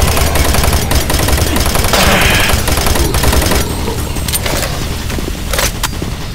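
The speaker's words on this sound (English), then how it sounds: "Warning, automated turret guns online." Automated turret guns fire in DOOM 3 on a monorail level, a loud, dense stretch of rapid gunfire with sharp bursts over a constant mechanical rumble, thinning slightly toward the end.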